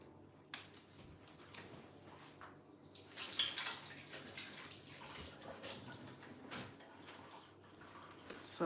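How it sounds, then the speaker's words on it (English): Hands washed under running water from a tap in a pastry kitchen, a soft, steady stream with faint splashing and a few clinks of dishes in the background. "I'm going to wash my hand again"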